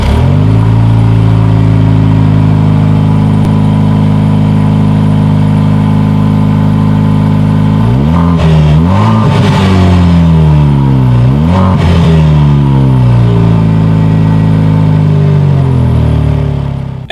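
A 2020 Jaguar F-Type with a four-cylinder engine idles loudly and steadily close to its exhaust, then is revved in several sharp rising and falling sweeps before returning to idle, with no voices.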